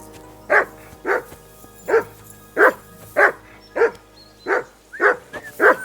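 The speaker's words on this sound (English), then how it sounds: "Get that dog to stop barking." A dog in the video game Kingdom Come: Deliverance II barks repeatedly at a steady pace, about ten sharp barks with a low background hum.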